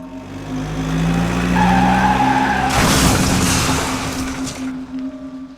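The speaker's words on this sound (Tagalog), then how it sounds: "ang driver ng motor ay nawalan din ng balanse at sumemplang ilang metro ang layo sa amin" A motorbike goes down on the road with a long, loud skid that builds into a harsh, noisy scrape and crash, then fades. Engine tones run under it and no one talks.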